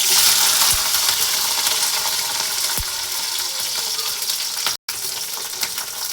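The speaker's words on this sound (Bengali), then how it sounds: "মরিচগুলো একটু ভেজে নিব" Dried red chilies and green chilies sizzle in hot oil with a loud, dense, continuous hiss, broken by a couple of soft knocks and a brief cut-out near the end.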